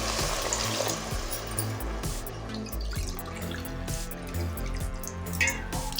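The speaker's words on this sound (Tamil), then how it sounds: "நான் 2 கப் ரைஸ் யூஸ் பண்ணியிருக்கிறதால 3 கப் தண்ணி சேர்த்துக்கிறேன்." Water poured from a tumbler into a pot of rice for methi pulav, a continuous splashing and trickling pour with drips, close and fairly loud over light background music.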